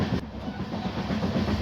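The Deccan Queen Express runs on rails on a monsoon journey from Pune to Mumbai, a steady rumbling roll with soft rhythmic clatter heard continuously from on board.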